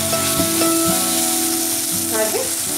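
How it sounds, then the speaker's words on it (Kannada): Cooked peas go into onions frying in a pan, giving a steady close sizzle mixed with sustained, gliding musical tones and no speech. "ಈ ಹಂತದಲ್ಲಿ ನಾನು ಬೇಯಿಸ್ಕೊಂಡಿರೋಂಥ ಬಟಾಣಿ ಹಾಕ್ಕೊಳ್ತಾ ಇದ್ದೀನಿ"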